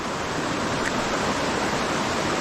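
Rushing spring water in flood pours steadily, a loud, dense, continuous roar of flowing water close by with no voices.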